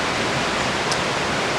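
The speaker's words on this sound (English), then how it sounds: "So I am at the famous double waterfall here" A famous double waterfall rushes in a steady, dense roar of falling water, close and continuous with no other sounds.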